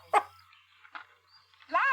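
A human voice imitates a Chihuahua, giving a few short, high, yappy barks and a whiny yelp, close and fairly quiet, with brief pauses between.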